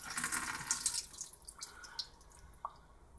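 Water sloshing and dripping in a gold pan while back panning material from a separator, a quiet run of trickles and small drips with occasional brighter splashes close by.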